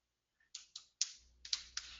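Computer keyboard typing a few keystrokes in a quiet room, about six distinct clicks in quick uneven succession, fairly faint.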